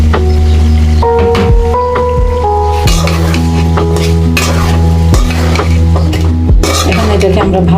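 Green banana sautéing in a pan, a loud continuous sizzle with repeated scraping and stirring strokes of a utensil against the metal, several sharp knocks cutting through the frying noise.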